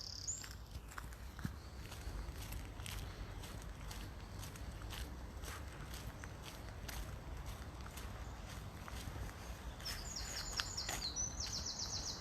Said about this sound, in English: We're starting the day the way we want to carry on, a bit of bird song.